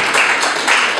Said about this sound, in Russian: Аплодисменты финалистам мужчинам.